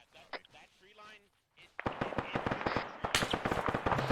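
ARMA 3 small-arms gunfire, a fast rattling string of sharp cracks after a brief quiet stretch, fairly close and steady, with a voice speaking briefly before the shooting starts.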